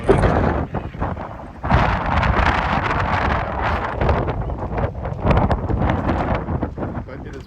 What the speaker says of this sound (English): And it is windy too, so I'm gonna hold on to my camera.